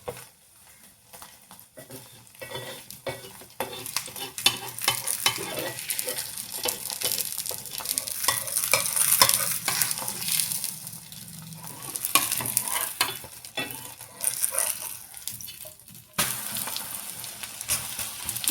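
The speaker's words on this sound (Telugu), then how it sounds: "మరి ఒక స్పూన్ అంతా నూనె ఇట్లా చుట్టుగా చపాతీ చుట్టూ ఇడుచుకుందామండి" Chapati frying in a pan as about a spoonful of oil is poured around it, a steady crackling sizzle that swells and fades with occasional stirring scrapes, no talk.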